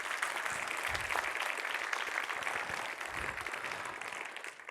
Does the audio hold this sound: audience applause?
yes